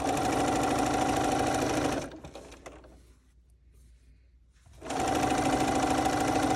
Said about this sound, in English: you're going to sew. Now I'm going to sew all the way down.